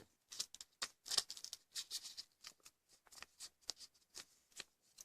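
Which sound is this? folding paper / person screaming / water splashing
folding paper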